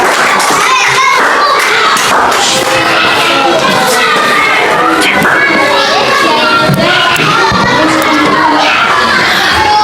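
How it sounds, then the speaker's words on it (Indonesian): A classroom of schoolchildren claps for a presenting group, a loud, dense burst of applause mixed with children's shouts and chatter that keeps going throughout. "Kasih aplaus untuk kelompok 2."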